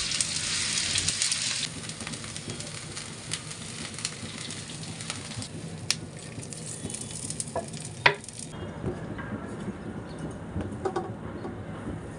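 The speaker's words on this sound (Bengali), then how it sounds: "এখন আমি দিয়ে দিচ্ছি বাটা রসুন।" Ground garlic paste hits hot pure oil in a pan for a raw mango pickle, sizzling loudly at first, then a steadier fry with occasional stirring scrapes and clinks.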